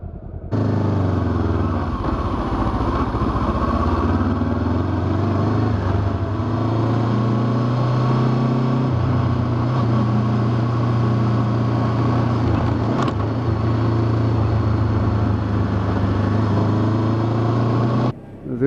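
Honda CB500X adventure motorcycle riding off, its engine a steady, close, continuous drone with wind noise that holds level for the whole stretch before cutting off at the end.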